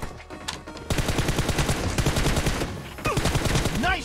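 Gunshots in a PUBG Mobile-style game, sounding as a fast sustained volley of sharp close shots after a brief lull, with a short voice near the end.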